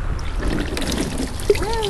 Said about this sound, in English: We'll pour some water down, okay?